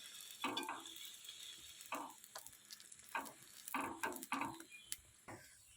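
Powder being dry-roasted in a pan while it is stirred, giving soft intermittent scraping and sizzling strokes in short bursts, faint and close, with no talking.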